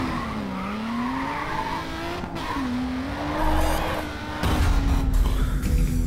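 A car drifting in Grid 2, its engine droning steadily under a long, wavering tire squeal that swells louder toward the end, with no talking.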